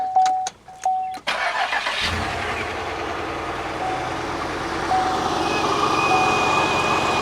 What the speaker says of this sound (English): crank it up and let's see how the engine sounds